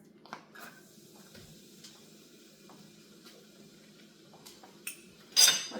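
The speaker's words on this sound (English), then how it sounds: "we're going to add onions and peppers." Onions and peppers dropped into hot oil in a pot for rice and beans, giving a soft, steady sizzle with faint utensil clinks, then a louder hissing burst near the end.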